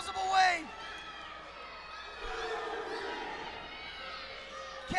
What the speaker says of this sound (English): This crowd is on their feet.